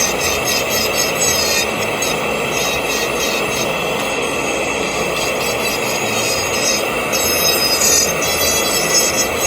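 A dental drill grinds a tooth down during a cosmetic makeover, giving a steady, high-pitched continuous whine with a rasping, scraping edge that holds without pause throughout.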